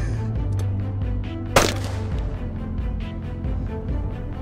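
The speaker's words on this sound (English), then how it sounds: "All right, let's shoot it again." A rifle shot fired at a homemade DIY body armor plate: one sharp, loud crack stands out midway over a steady low hum, with no voices.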